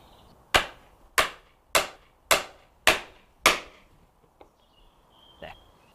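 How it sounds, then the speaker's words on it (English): A hammer strikes a key six times to set the poppets of a pole lathe, sharp evenly spaced knocks that ring briefly, followed by a couple of faint light taps. "Then we use a key"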